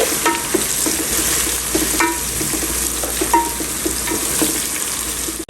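Onions fry in a pan with garlic ginger paste for chicken biryani, a steady close sizzle broken by scraping, stirring strokes of a spoon, with no voices.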